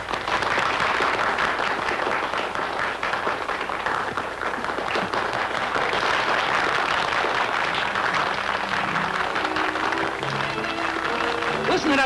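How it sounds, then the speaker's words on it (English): A fight stadium crowd applauds in a continuous dense roar that holds steady throughout, with faint tonal sounds near the end. "Listen to that applause"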